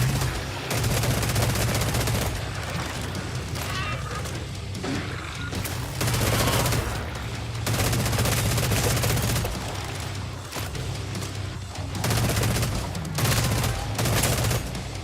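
Dense, loud gunfire from the video game Hell Clock, with rapid overlapping shots and bursts mixed with booms and chaotic combat noise, carrying on almost without a break.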